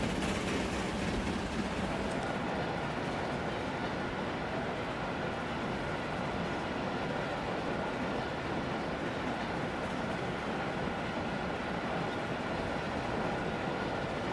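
A long freight train of about 205 metres rolls steadily along in a train simulation game, its dense broadband rumble continuous and even throughout, with no talking.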